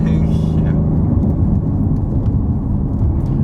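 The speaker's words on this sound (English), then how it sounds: "You hear those pops? When you like give it that blip, it'll like... Yeah, even just decelerating," A supercharged 675 hp Ford Mustang GT decelerating, with a deep, rumbling exhaust burble and faint, scattered pops and crackles over it. Voices can be heard faintly.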